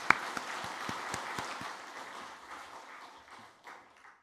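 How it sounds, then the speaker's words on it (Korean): A church congregation applauds its Sunday school teachers: a soft wash of clapping with a few distinct claps early on, heard at a distance and gradually fading out. "우리 교사들에게도 수고한다 박수 한번 합시다"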